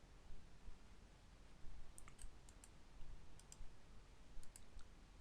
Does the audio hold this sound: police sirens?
no